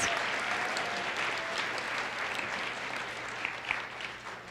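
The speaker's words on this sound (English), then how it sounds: "So can you give them a round of applause?" An audience gives event organizers a round of applause, continuous dense clapping at steady loudness that tapers slightly toward the end.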